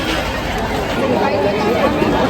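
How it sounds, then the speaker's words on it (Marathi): Dense crowd of devotees at a Ganpati darshan pandal in Mumbai, a continuous babble of many voices and shuffling at close range with no single voice standing out. "एवढे श्रद्धालूंची गर्दी आहे आपली."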